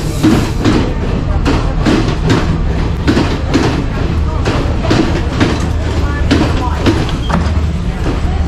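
A passenger train rolls toward Kandy in Sri Lanka, its steady rumble loud and constant throughout, with faint repeating clacks of wheels over rail joints.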